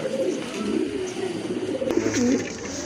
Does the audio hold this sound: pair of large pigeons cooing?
yes